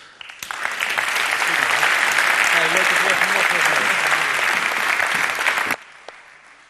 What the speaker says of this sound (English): And another warm round of applause.